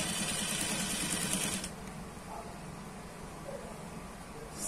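A sewing machine stitches a skirt elastic band in a fast, steady whir for about a second and a half, then stops, leaving a quiet room hum.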